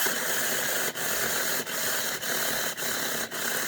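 A small cordless mini chainsaw motor runs near and steady with a continuous whirring hiss as its battery drains. Five short dips interrupt the sound at roughly even intervals.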